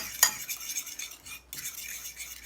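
A spoon stirs ground spices into melted butter in a small dish, giving a sharp metallic clink followed by soft, steady scraping and stirring that pauses briefly before resuming, close and fairly quiet.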